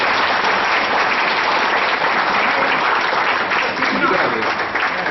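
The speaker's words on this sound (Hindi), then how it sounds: "जोरदार तालियों के साथ स्वागत।" Loud, dense applause from an audience welcoming guests at the inauguration of an IT lab, sustained and even from start to finish.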